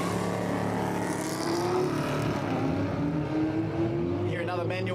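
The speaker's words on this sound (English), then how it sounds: "Hear another manual gearbox out there." Car with a manual gearbox driving past at a Quick Street event, engine note rising and falling through gear changes as it passes, steady and moderately near with crowd noise beneath.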